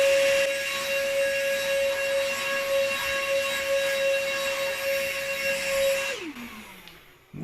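Proscenic P8 stick vacuum cleaner running on carpet at its second power level: a steady, loud motor whine with a constant high tone that holds for about six seconds, then falls in pitch as the motor spins down and switches off.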